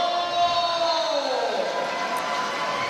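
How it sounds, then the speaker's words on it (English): Crowd at a para swimming finals meet in Singapore cheering steadily throughout, a broad continuous roar with a whistle-like tone sliding downward early on and an announcer's voice present. "there'll be a big cheer in just a few seconds' time"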